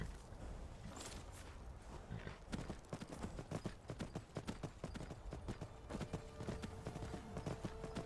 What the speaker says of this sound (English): So I've got an armored horse now